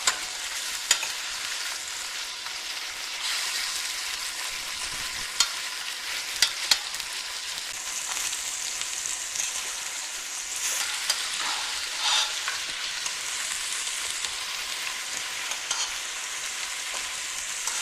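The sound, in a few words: browning turkey meat in a pan, sizzling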